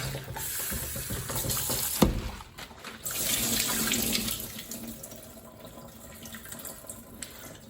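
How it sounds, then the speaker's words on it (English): A running kitchen tap rinses salt off brined cabbage for kimchi, water splashing steadily and close throughout with a brief louder clatter near the start, no talking. "I'm just going to rinse off the salt."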